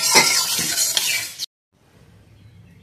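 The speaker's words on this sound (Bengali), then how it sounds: "ডালটা ভালোভাবে ভাজা হয়ে গেছে, এর থেকে বেশি ভেজে নেবো না।" Lentils dry-roasting in a pan are stirred, giving a loud scraping, rattling sizzle for about a second and a half before cutting off to near silence.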